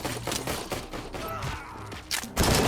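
Rapid gunfire in RoboCop: Rogue City, a dense run of loud close shots and thuds over roughly two seconds, then a heavier burst at the end.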